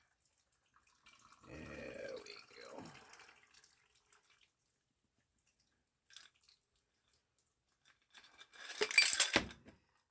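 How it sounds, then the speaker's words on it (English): A chilled cocktail is poured through a shaker strainer into a Collins glass with ice, giving a short splashing pour near the middle and a louder burst of liquid and clinking near the end, with a brief spoken phrase. "Pour it into your Collins glass with ice."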